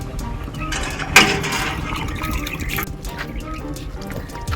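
Water gushing from a roadside hand pump during a stop on the way to a temple, with a splashing burst near the start and steady pouring and trickling after it, and voices faint in the background.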